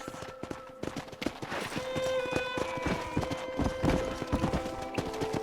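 Steady clip-clop of horse hooves, several overlapping strikes in an irregular trotting rhythm, with tonal game music and ambience running underneath.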